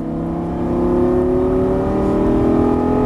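A Lamborghini engine pulling hard out of a corner on track as the throttle is reapplied, a loud steady rising drone with its pitch climbing smoothly, close and continuous with no voices.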